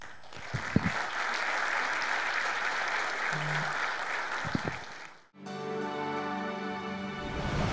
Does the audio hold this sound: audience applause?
yes